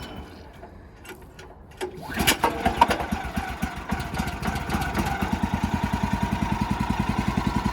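The gas engine of a homestead bandsaw mill starts up and settles into a steady, even chugging idle, close by and moderately loud, with a rapid regular pulse throughout.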